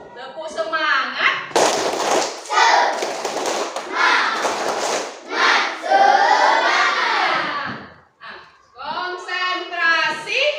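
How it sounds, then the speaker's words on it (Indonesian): Fifth and sixth grade schoolchildren in a classroom performing a rhythmic clapping routine, sharp bursts of group claps interspersed with children chanting in unison, close and loud. "Kita tepuk semangat dulu nak. Tepuk semangat dulu. Tepuk semangat."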